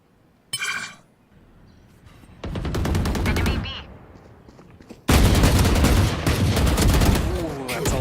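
Rapid automatic gunfire in the Valorant video game during an esports match, a short burst followed by sustained heavy volleys of overlapping shots, loud and dense, with a quieter spell between them.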